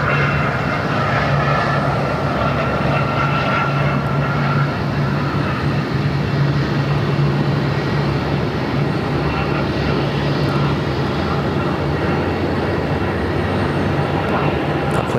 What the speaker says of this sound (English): Oh, look, another America West A319.